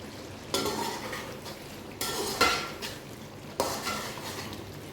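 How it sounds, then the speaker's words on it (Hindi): Chicken karahi with tomatoes being stirred in a pan over high heat, a spoon scraping and clattering against the metal in three distinct bursts, with a low sizzle continuing between them. "टमाटर अच्छी तरह मिक्स हो चुके हैं।"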